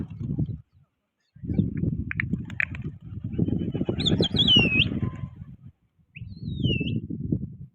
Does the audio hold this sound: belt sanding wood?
no